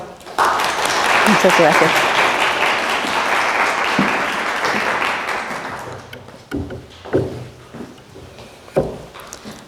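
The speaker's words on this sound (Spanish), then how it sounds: "Le damos la bienvenida con un fuerte aplauso" An audience at a scientific lecture gives a speaker a warm welcome with loud, sustained clapping that fades after several seconds into scattered taps as the speaker briefly begins talking.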